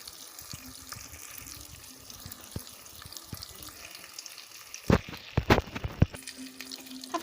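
Water poured into a pot of rice during home cooking, a steady faint trickle and hiss that ends in a few louder splashes and clatters near the end.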